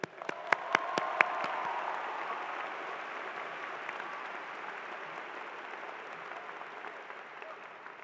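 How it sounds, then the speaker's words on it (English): Graduation ceremony audience at a College of Natural Sciences commencement breaking into applause, a few sharp claps at first and then dense, steady clapping from a large crowd that slowly fades, heard from a distance in a large hall. "Give yourselves a round of applause."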